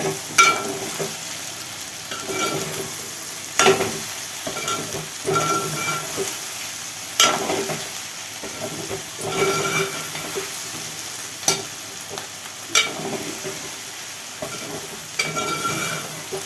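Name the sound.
stirring okra frying in oil in a pan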